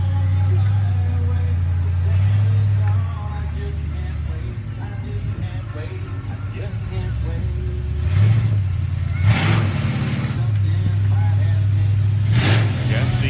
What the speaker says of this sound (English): seeing the various vehicles making their way down the street here as night has fallen